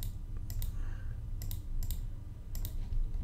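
Mouse clicks on a computer while working in an email campaign tool, several sharp, close clicks in pairs and small clusters over a low steady hum.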